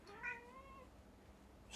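A cat gives a single clear meow indoors at home, short and moderately close, over a quiet background hum.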